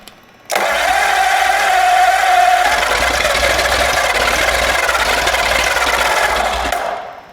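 A Flathead V8 engine on a homemade run stand roars loudly and steadily at high revs for about six seconds, held near full throttle, then cuts off abruptly.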